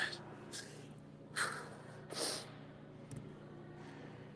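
A few short, sharp nasal sniffs break the quiet at irregular intervals, close to the microphone, with faint breathing between them.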